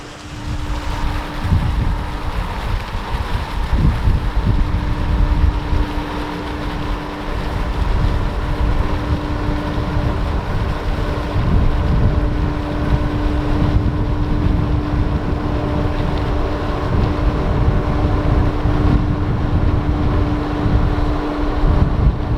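A big ship manoeuvring into lock 7, its engine wash a steady, loud low rumble and churning roar with a constant tonal hum, mixed with wind buffeting the microphone throughout.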